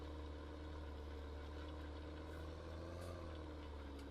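A tractor engine labours under load in heavy duty mode during field work on a farm, a steady, dense low rumble that holds constant and loud throughout.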